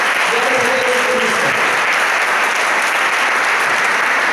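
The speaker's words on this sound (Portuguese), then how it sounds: "Essa pode aplaudir o Senhor." A church congregation applauds in praise during a worship service, loud continuous clapping from many people that holds steady throughout, with a brief voice or shout near the start.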